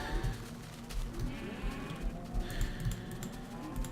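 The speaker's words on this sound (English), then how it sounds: "And there's plenty of sheep around here too" Sheep in the Minecraft video game give a few short bleats over a steady low background hum, with soft clicking like keyboard typing.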